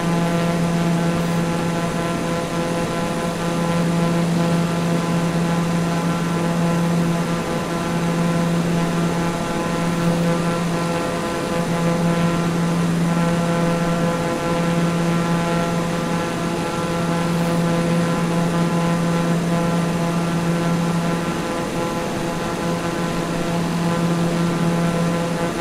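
A bush plane's propeller engine drones in Microsoft Flight Simulator 2020, a steady humming cruise tone with stable harmonics and slight pulsing that holds throughout, with no voices.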